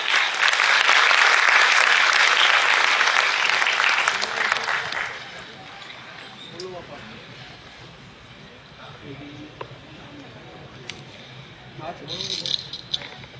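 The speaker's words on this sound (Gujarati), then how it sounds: "આપણે વક્તાઓને તાળીઓથી વધાવશું" Audience applause greets the speakers at a tribute event for a well-known Virani High School, Rajkot teacher and drama artist, loud and steady for about five seconds before fading into quieter room noise, then a brief burst of clapping near the end.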